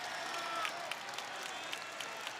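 Steady applause and crowd noise fill a college basketball arena, Xfinity Center at Maryland during a men's game against Vermont, sustained and fairly distant with scattered claps popping out.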